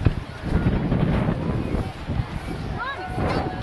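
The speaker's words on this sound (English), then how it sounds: "Is it windy enough for you out here?" Heavy wind buffets the microphone in loud, rumbling gusts, with voices briefly audible through the roar.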